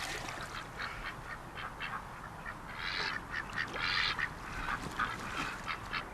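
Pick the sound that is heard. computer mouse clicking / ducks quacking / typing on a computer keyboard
ducks quacking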